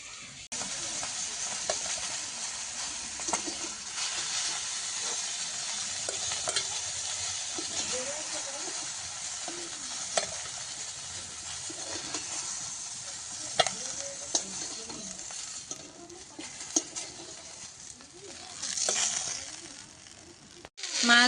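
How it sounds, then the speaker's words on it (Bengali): Pointed gourd sautéing in a pan with spices, onion, garlic and green chili, giving a steady close sizzle with scraping stir strokes throughout, occasional utensil knocks, and no talk. "মাছগুলো ভেজে নেওয়ার পর পটলটা একটু মশলা দিয়ে কষিয়ে নিলাম, পেঁয়াজ রসুন কাঁচা লঙ্কা সব রকম দিয়ে।"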